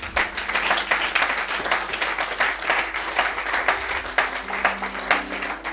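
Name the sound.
church congregation applauding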